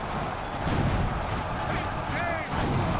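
Cannon fire in the Napoleonic-era strategy game Imperial Glory, a dense, continuous rumble of booming battle noise with a steady loud roar and overlapping blasts, while someone talks over it.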